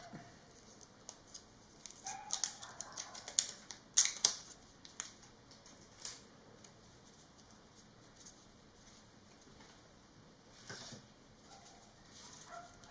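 A pack of RallyShowCards trading cards being torn open, quiet crinkling and rustling in short bursts that peak mid-way and then trail off into faint handling, no talk.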